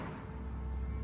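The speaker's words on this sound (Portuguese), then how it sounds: "Olha o barulho de cigarra." A steady, continuous cicada buzz with a bright high-pitched whine, loud and unbroken throughout, no voices.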